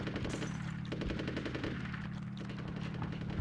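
The big boy gun in Conker's Bad Fur Day fires a rapid, continuous burst of heavy automatic shots, loud and steady for the whole stretch with no talking.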